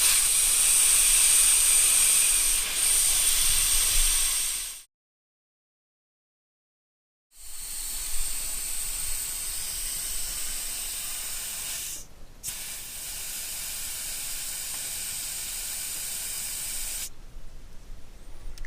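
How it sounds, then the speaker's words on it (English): Air rushing out of a vehicle tyre through the bleed valve of an ARB tyre inflator gun, a loud, steady hiss that stops abruptly for a couple of seconds, then resumes with brief interruptions. "let's start with the ARB tyre inflator using the bleed valve"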